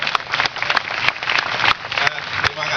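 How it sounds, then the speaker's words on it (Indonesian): Audience applause at a Kenduri Cinta Maiyah gathering in Indonesia, a dense steady wash of many hands clapping with a few sharper claps breaking through, voices audible in the crowd throughout. "Cukup tepuk tangan semua untuk Ma'iyah."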